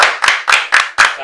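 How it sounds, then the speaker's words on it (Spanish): Rhythmic clapping on a radio show in Santo Domingo, six sharp close claps at an even beat, loud and clear with no voices over them. "Un aplauso para mi compañero"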